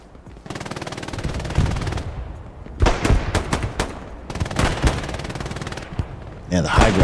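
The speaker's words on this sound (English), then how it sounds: "That Garand is just popping." Gunfire from an M1 Garand and other weapons in Hell Let Loose crackles as layered battle noise, with sharp, close shots popping over it in a quick, uneven rhythm.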